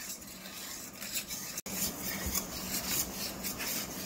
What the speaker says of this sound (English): Now keep on whisking.